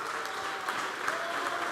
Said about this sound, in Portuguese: Dá mais uma salva de palmas para Jesus